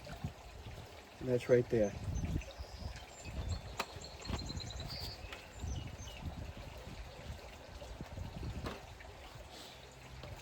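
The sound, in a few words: pouring liquid chlorine to measure it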